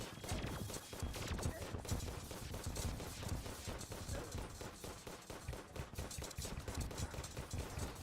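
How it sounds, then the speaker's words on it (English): Rapid exploding-bullet gunfire in a video game, a dense rattling stream of sharp bursts and pops that continues almost without pause, fairly faint. "I'm gonna go ahead and switch to my exploding bullets now."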